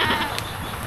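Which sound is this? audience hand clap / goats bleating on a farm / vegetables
goats bleating on a farm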